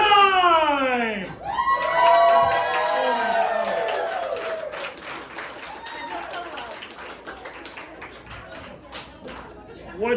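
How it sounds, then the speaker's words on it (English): A studio audience at a variety show cheers, screams and claps loudly, a dense crowd roar with excited shrieks that gradually fades while voices talk over it. "Remember, you have to throw yourself out of your seat and applaud wildly"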